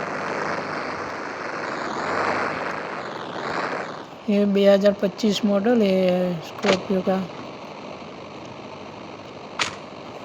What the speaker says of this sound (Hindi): ये हमारा हेलीकॉप्टर बंद ही नहीं हो रहा है, इसके पंखे घूम रहे हैं।